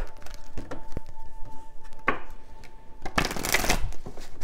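Oracle cards are shuffled by hand in several rapid riffling bursts, close and fairly loud, with the longest, densest run near the end and no talking.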